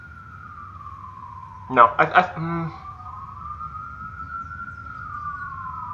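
A wailing ambulance siren sounds in the background, a steady tone rising and falling slightly throughout, with a brief spoken word cutting in partway.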